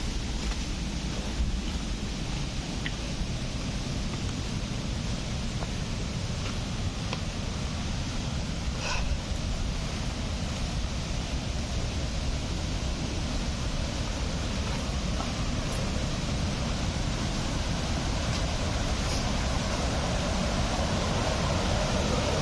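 Deojharan waterfall at a picnic spot in Deogarh, Odisha: a steady, broad rush of falling water runs unbroken and fairly loud throughout, with no voices over it.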